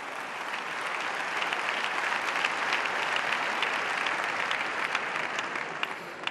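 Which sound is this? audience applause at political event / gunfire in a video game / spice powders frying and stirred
audience applause at political event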